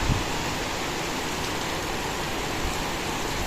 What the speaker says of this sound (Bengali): খুব সকালের মনোরম দৃশ্য এবং মনোরম বাতাস এবং বৃষ্টি খুব ভালো লাগলো